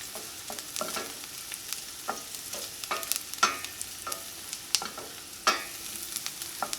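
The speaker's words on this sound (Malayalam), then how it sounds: "ഇനി മഞ്ഞൾപ്പൊടി ഇതിനകത്ത് കിടന്നിട്ട് നന്നായിട്ട് മുരിയണം." Turmeric powder frying with onions in a pan for a vegetarian kids' lunch box dish, with a steady soft sizzle and repeated close scraping stirs of a spoon against the pan, no talking.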